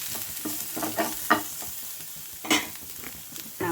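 Onions and turmeric powder are sautéed in a pan, with a soft steady sizzle broken by repeated scraping and stirring strokes from a spatula, heard close with no talking.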